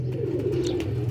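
A female pigeon cooing close by, one continuous low throaty coo filling the short moment, with no talk.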